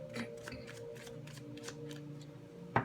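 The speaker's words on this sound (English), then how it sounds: "one last shuffle" A deck of tarot cards being shuffled by hand: faint, close riffling and soft flicking of cards over a few seconds, with a sharper tap near the end.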